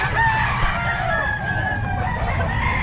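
Roosters crow at a pet market in Bocaue, with several overlapping cock-a-doodle-doo calls, some near and some farther off, over a steady bed of market noise and clucking fowl.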